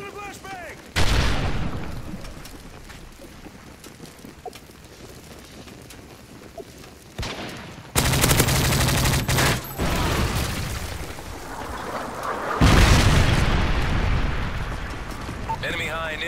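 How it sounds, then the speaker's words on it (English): Flashbang and gunfire in Call of Duty: Modern Warfare 3, with loud explosive bursts around 1, 8 and 12.5 seconds over steady rumbling battle noise and scattered shots; voices speak intermittently through the combat. "Toss in a flashbang!"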